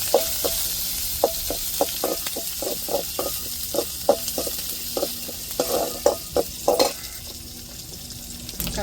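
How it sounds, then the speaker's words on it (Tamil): Chopped onions sizzle in hot tempering oil for a soya chunk curry, a steady frying hiss punctuated by regular stirring clinks of a spoon against the pan, close and alone without talk. "இப்போ வெங்காயம் சேர்த்துக்கிடுவோம்."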